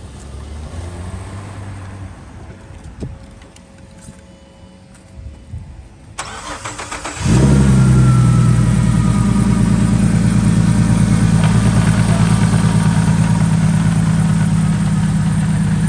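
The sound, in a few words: big turbo car engine starting and idling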